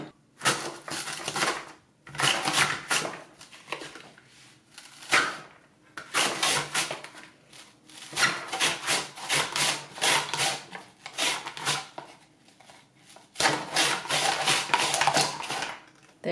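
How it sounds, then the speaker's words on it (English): An onion slid back and forth over a Swissmar Borner V-1001 V-Slicer Plus mandoline, making repeated bursts of crisp scraping and slicing strokes separated by short pauses, close and fairly loud. "What you do is just cut the onion."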